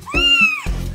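A small kitten gives a single loud, drawn-out meow up close, followed by a short softer bit of rustling.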